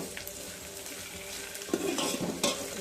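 Onions frying in a pan for tomato rasam, a soft steady sizzle with a couple of stirring scrapes of a utensil toward the end.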